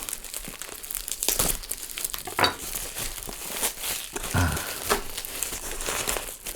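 Close, continuous crinkling and rustling of wrapping as a gift package of honey is opened, with irregular crackles and a few brief knocks throughout.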